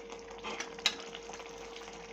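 Soft sizzle of hot tempering poured over desi chicken karahi in a Lahori restaurant-style curry, a faint steady frying hiss with a few small crackles and a brief clink, no voices.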